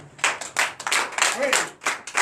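A church congregation at a Sunday worship service claps in acclamation, a series of loud, closely spaced bursts of clapping in uneven rhythm.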